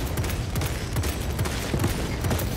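Rapid gunfire from Space Marine 2 player-versus-player combat, a dense continuous barrage of overlapping shots and explosions filling the scene at steady loudness with no clear pauses.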